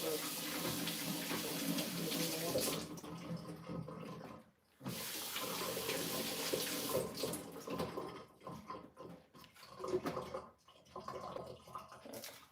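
An item is washed under a running tap at a sink, water pouring steadily for a few seconds, then cutting off and resuming in uneven splashing bursts, with faint voices in the background.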